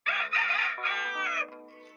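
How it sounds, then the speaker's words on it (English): A rooster crows once, a loud, close, drawn-out cock-a-doodle-doo that tails off into a softer trailing note, with nothing else behind it. ""Cock-a-doodle-doo," crowed the rooster."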